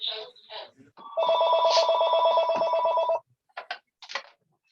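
A mobile phone rings loudly in a classroom during a lesson, a single sustained electronic ringtone burst of about two seconds, with brief speech just before and after it.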